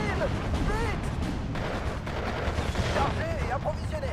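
Artillery and gunfire rumble through a Steel Division 2 battle, a dense continuous barrage with overlapping booms and shots and a voice talking over it.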